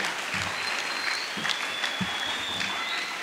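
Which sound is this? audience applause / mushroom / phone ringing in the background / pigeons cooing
audience applause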